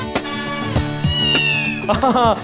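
A cat named Kitty meows loudly and close, a drawn-out wailing meow followed by a few shorter cries in quick succession.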